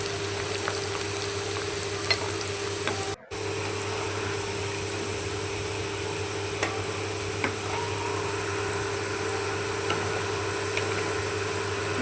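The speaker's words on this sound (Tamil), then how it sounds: "நல்லா சலசலன்னு சத்தம்லாம் வந்துட்டுருக்கு." Uppu seedai dough balls fry in hot oil, giving a dense, continuous sizzle and bubbling crackle that stays steady and close for the whole stretch, with no talking over it.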